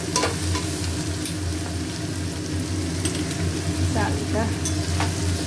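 Rice tossed into a hot pan fries with a steady crackling sizzle, broken by a few sharp scraping stirs, as a voice speaks briefly over the cooking.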